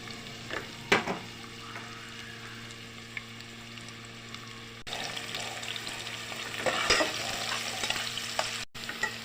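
Chopped onion frying in a little oil in a pot with beef for haleem gives a steady sizzle with occasional stirring and light utensil clatter, close and fairly quiet, with no voices.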